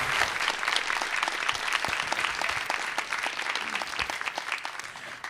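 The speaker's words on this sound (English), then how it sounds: "If we could have a round of applause for everyone who's actually set up, put together this event, that would be great as well." Conference audience applauding steadily, a dense wash of many hands clapping close and fairly loud for the whole stretch with no talk over it.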